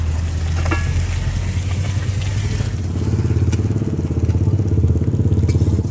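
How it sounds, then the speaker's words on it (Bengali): Fish head frying in hot oil in a pan for Bengali muri ghonto, a dense continuous sizzle with occasional crackles and stirring scrapes, loud and close, with a low steady hum underneath. "মাথাটা ভালো করে ভেজে নিয়েছি"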